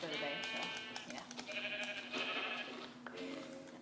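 Sheep in the video game Minecraft bleat several times in a row, clear and close, with a faint voice in the background.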